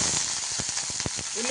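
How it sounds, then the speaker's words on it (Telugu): Tempering seeds crackling and sizzling in hot oil while preparing a ridge gourd curry, a close, continuous hiss broken by sharp popping bursts, with no talking. "తాలింపు గింజలు వేగినాయి కదా"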